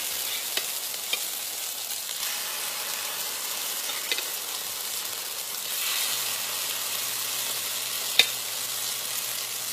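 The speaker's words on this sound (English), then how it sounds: "it's time to cook these corn cakes" Spooned corn cake batter fries in a hot pan with a constant crackling sizzle, punctuated by a few light clicks of utensils against the pan, close and steady with no talking.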